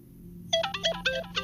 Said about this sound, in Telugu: ఫోన్ తీవయ్యా